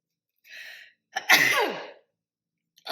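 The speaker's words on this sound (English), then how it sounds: "Hold on, I'm about to sneeze." A single close, sharp human sneeze with a short breathy intake just before it, set against silence and followed by a brief trailing sound.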